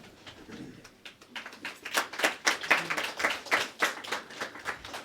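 Audience clapping at a 2017 oil and gas industry event, starting sparse and building into steady, dense applause of many hands, fairly close.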